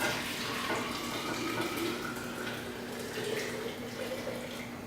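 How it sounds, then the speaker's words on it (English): Distilled water streams into a jar for kombucha tea, a steady close trickle and splash holding evenly throughout with a faint hum underneath. "And now we're just gonna put the water, the distilled water, in the jar."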